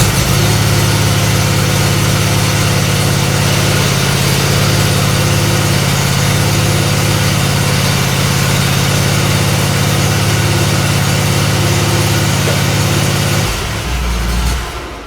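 Raptor XDX quad engine idling steadily with a constant low rumble, close and loud, then cutting off near the end.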